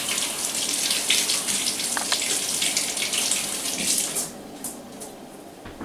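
Fresh basil is rinsed under a running kitchen tap, a steady splashing gush close by that thins out and breaks into lighter trickles and drips near the end.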